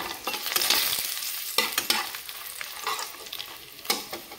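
Dry red chillies and a bay leaf sizzle in hot oil left from frying lentil dumplings, with a steady crackling hiss broken by a few sharper pops and stirring scrapes, close and fairly loud, with no talking.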